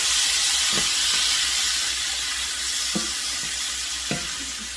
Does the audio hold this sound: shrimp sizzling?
yes